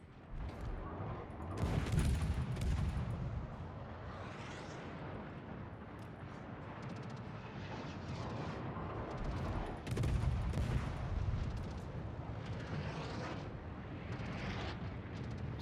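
Naval gunfire and shell impacts in World of Warships at tier 3, repeated booming salvos and rumbling explosions across the clip, moderately loud, with game announcer voice lines.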